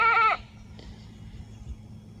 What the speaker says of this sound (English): the does are crying a little bit